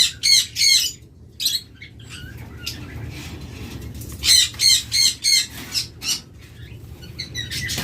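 Pet lovebirds, budgerigars, cockatiels and conures kept for sale squawk in loud, rapid bursts, with sharp repeated calls clustering at the start and again near the end over a low background hum.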